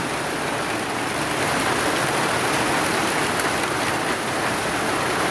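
Heavy rain pours down steadily, a loud, dense, unbroken hiss of water drumming on surfaces with no pauses.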